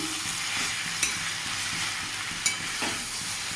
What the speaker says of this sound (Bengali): সয়াবিনটাও আলুর সাথে কষিয়ে নেব